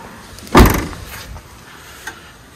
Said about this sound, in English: Let me swing the door closed and make sure that it's not hitting anything when I close the door completely.